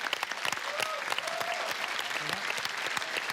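A studio audience at a televised football show applauding steadily for a guest, a dense continuous wash of clapping with cheers and voices underneath.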